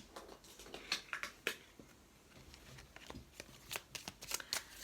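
Tarot cards shuffled by hand during a reading, a run of crisp riffling bursts and soft flicks coming in short clusters with quiet gaps between, close and fairly faint.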